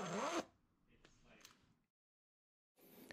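A quick zip is drawn on an Outdoor Vitals Summit 0F ultralight winter sleeping bag with a plastic spreader on the zipper. There is a faint, close, sharp zipping rasp at the start, a soft trailing rustle, silence, then another brief zip at the end.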